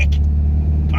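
A British Leyland Austin Ambassador car accelerating hard on a main road, its engine a deep, steady rumble heard from inside, with people talking over it.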